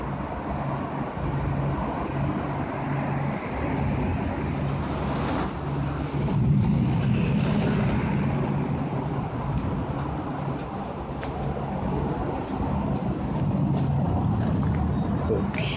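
Low, steady broadband roar of an approaching supercell thunderstorm in Stockbridge, Georgia, a continuous rumbling wash like distant traffic that holds fairly constant and swells slightly midway, with no talk over it.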